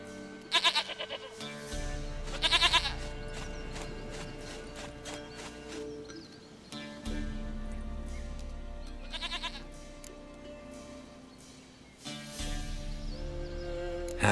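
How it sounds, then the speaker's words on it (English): A goat in The Witcher 3 video game bleats several times in short wavering bursts, with hoof clops and steady background music underneath. "dearest, sweetest goat."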